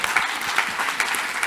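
An audience applauds at a business talk on company budgets, a steady dense patter of many hands clapping, moderately loud and sustained throughout.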